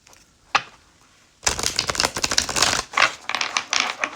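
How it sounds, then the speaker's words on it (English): A deck of tarot cards being shuffled close up, one sharp snap followed by a loud, dense riffling burst, a brief pause, then another flurry of riffling. "I'm just going to shuffle that one more time."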